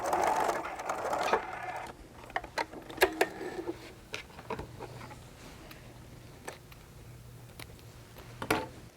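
A hand-cranked sewing machine stitching through a heavy part of fabric, a brief whirring burst followed by scattered, irregular mechanical clicks and taps, fairly quiet and close, with no talk.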